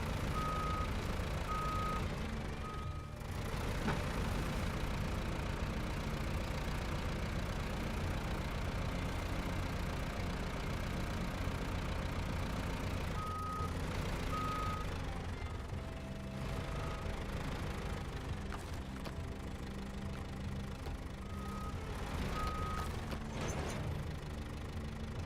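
A heavy truck with a trailer turns while reversing, its backup alarm beeping in short evenly spaced pulses over a steady engine rumble. The beeps come in several separate runs with no one talking.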